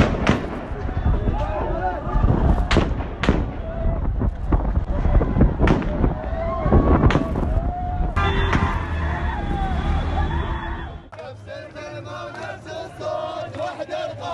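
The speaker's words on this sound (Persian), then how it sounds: "نیروهای حکومتی و وحوش بسیجی خامنه‌ای با گلوله‌های جنگی به روی تظاهرات آتش گشودند" Live gunfire by security forces at a street protest in Baghdad, Iraq: a rapid series of sharp, loud cracks and bangs amid crowd shouting, then a rougher, noisier stretch of commotion near the end.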